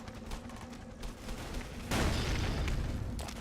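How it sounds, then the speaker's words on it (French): In the Ace of Spades video game, an anti-personnel grenade goes off in a sudden loud burst that then fades, set against a steady game background. "Alors ici on a les grenades antipersonnelles."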